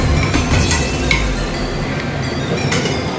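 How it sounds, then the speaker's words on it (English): A paratha sizzles in generous desi ghee on a hot griddle, a loud continuous crackling fry that runs steadily throughout, close up with no talking. "smear the top side with desi ghee again and be generous with it"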